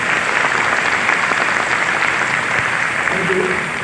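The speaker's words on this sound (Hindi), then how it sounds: "एक बार जोरदार तालियां सिन्हा सर के लिए।" A large audience in an orientation hall gives steady, dense applause for the chemistry department head, a continuous wash of clapping that holds level throughout and eases slightly near the end.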